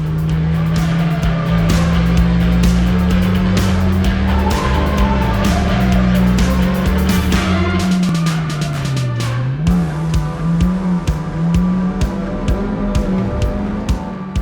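Mini Cooper race car on a circuit near Riga, engine droning loudly and steadily, pitch dipping and recovering as it brakes into the first corner, with tire squeal and other cars close around.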